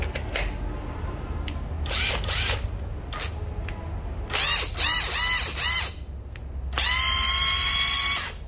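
A used 12V Nati EZ6470 cordless drill whirs in short bursts, several brief starts, then longer loud runs with a rattling, whining chuck, close and alone.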